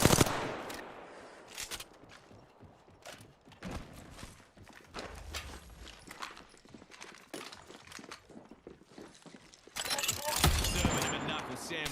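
A knuckle cluster weapon fires in a video game as a run of sharp, rapid metallic bursts and clattering impacts, swelling into a dense loud volley near the end, with a voice talking over parts of it.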